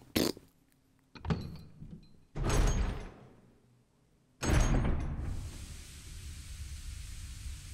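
In Resident Evil Remake, a heavy door is worked with a few creaks and thuds before a long, loud opening swing that settles into low ambient hiss, close and clear with no talk.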